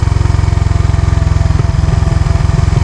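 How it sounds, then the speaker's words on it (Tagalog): Motorcycle engine braking on a steep uphill-downhill road, clutch released and no brakes applied: a steady, loud, close engine drone with a rapid pulsing thrum that roughens toward the end. "yung uugong yan na yung tinatawag na engine brake"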